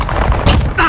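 Loud, close gunfire in Call of Duty Warzone on Rebirth Island, a dense burst of shots within a single second.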